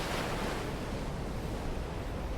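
Steady ocean surf washes along without a break, a soft, even rush of breaking waves with a little wind mixed in and no other sounds.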